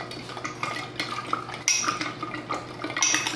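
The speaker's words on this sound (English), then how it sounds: "I'll stir behind you just to get the sugar to dissolve" Spoon stirring hot water and sugar in clean glass jars, with light clinks of metal against glass and a faint liquid swirl, close and steady with no voices.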